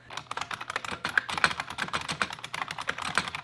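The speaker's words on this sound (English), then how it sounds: "They're also the loudest of all mechanical keyboards." Fast, loud clattering keystrokes on a hand-built mechanical keyboard with a 90s-style loud switch feel, typed close up in a steady, dense rhythm.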